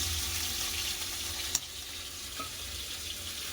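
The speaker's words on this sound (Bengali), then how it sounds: "মাছটা এবার ভাজা হবে" Rohu fish, rubbed with salt and turmeric, fries steadily in hot oil, a soft continuous sizzle with one sharp clink partway through and a faint clatter later.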